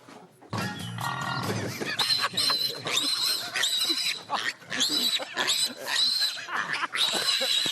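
Loud, raucous pig-like squeals and grunts in repeated bursts, mixed with music and excited voices throughout, on a farm reality TV show.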